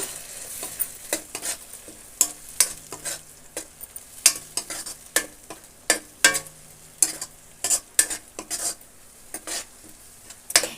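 Ground paste being stirred into egg rice frying in a pan: a steady run of sharp spoon-scraping strokes, close and fairly loud, repeating every half second or so over a low, constant sizzle.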